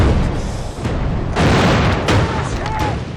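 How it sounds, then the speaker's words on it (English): German artillery fire in a war drama episode: dense rumbling booms and bursts roll through a noisy, continuous din, with loud blasts around the middle, while voices shout over the barrage. "It's German artillery!"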